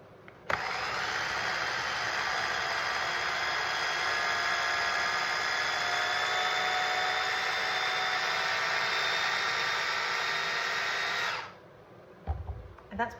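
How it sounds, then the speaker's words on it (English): Pampered Chef Flex+ blender blending cheesecake batter with eggs, a steady loud motor whir running continuously for about eleven seconds, then cutting off abruptly, followed by a few faint clicks. "I'm going to blend it a little bit more to make sure the eggs are good and blended in there."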